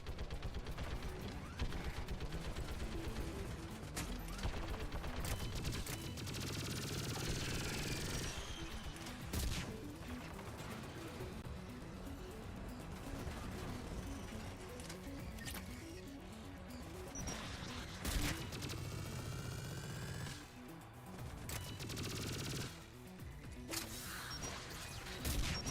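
Turrets firing in Mass Effect, a long barrage of dense rapid gunfire and crashing impacts with brief whooshes, loud and continuous with short lulls, mixed into busy game action.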